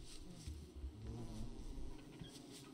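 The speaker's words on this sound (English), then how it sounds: "Lots of bee noises happening." Bees in the video game Don't Starve Together give off a steady, droning buzz that goes on for the whole stretch. It sounds close and fairly even, with no speech.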